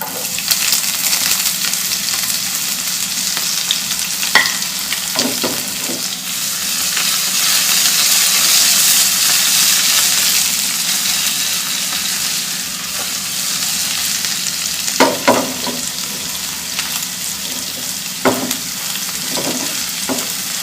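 Red onions sauté in a hot pan after garlic has browned, a steady broadband sizzle running throughout with occasional clinks and scrapes of a utensil stirring, no voices.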